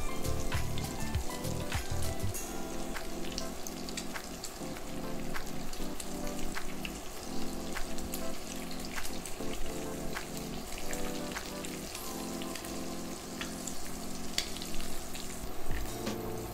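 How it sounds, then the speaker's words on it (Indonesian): Perkedel, fried potato patties, sizzle steadily in hot oil as beaten egg is poured over them, a dense continuous crackle with no talking. "tuang kocokan telur di atas perkedel yang lagi digoreng"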